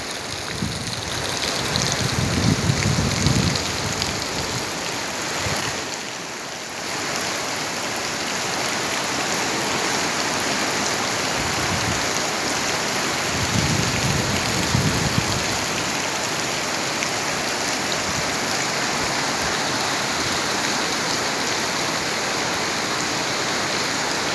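Heavy rain pours down steadily during flooding in a dense, continuous hiss, with occasional low rumbles beneath it and no voices.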